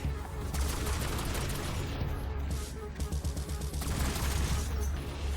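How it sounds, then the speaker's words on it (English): Rapid gunfire cuts down zombies in Black Ops 7 Zombies, a dense continuous burst of shots with booming low-end layered over game noise, running steadily the whole time. "I am shooting when I get to the top of either staircase"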